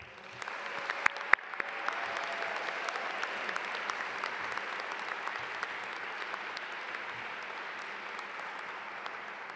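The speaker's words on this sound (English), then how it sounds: "So let's have a huge round of applause for our amazing staff" A commencement audience at Duke's Nicholas School of the Environment in 2021 applauds the school staff, with an even, sustained wash of clapping heard at a moderate distance and a few sharper claps standing out early on.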